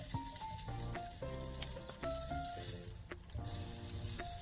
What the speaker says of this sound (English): I'm just going to cook my asparagus, kind of get all the butter and the salt to the asparagus